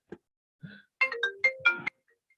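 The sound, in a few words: phone ringtone ringing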